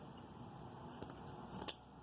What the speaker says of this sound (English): These scissors, Jesus, these scissors